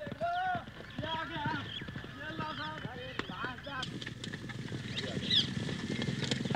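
Horses gallop for a riding display in which flags are picked up from the ground at full gallop, with rapid hoof clip-clops building toward the end. Someone narrates over the hooves throughout.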